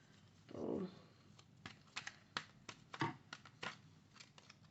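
Tarot cards being drawn from a deck: soft close shuffling and sliding, then a series of sharp light snaps and flicks at an irregular pace, heard quietly in a calm indoor space.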